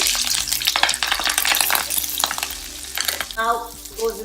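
Green chilies frying in a pan crackle and sizzle close by, with stirring clatter and a brief voice near the end.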